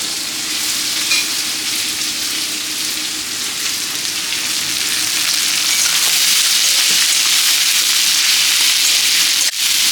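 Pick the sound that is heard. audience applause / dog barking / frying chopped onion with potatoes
frying chopped onion with potatoes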